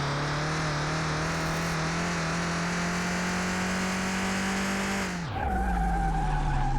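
In the Car Mechanic Simulator 2021 video game, a loud car engine drones at a steady high pitch while the tires skid, then the revs drop sharply near the end and the engine settles into a lower, rougher tone. There is no talk.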